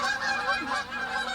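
Several geese honk repeatedly outdoors, overlapping nasal calls at moderate distance, continuous across the short stretch with no talking.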